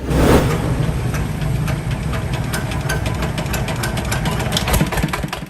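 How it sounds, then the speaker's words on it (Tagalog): A newly bought generator set engine runs steadily nearby, a loud continuous rumbling idle with rapid knocking pulses and vibration, alone without speech. "Gintestingan ko nagagana ang ini nga motor sa genset nga ginbakal ng Day Romeo Anggay"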